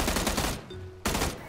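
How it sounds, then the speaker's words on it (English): Gunfire in the PUBG battle royale game: loud bursts of rapid shots fill the opening half second and return at the end, separated by a quieter gap with a faint tonal hum. "gunshots to the left, gunshots to the right"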